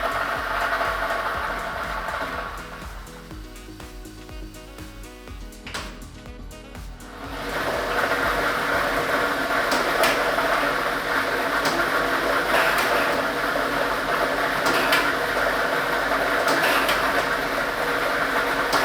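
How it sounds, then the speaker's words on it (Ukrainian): A lottery ball drawing machine starts up at a televised Ukrainian lottery draw. A quieter mechanical whir gives way to a loud, steady rushing roar of air and tumbling balls that runs continuously with no speech. "І ми вмикаємо лототрон"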